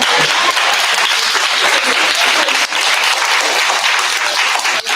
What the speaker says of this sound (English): giving you a great round of applause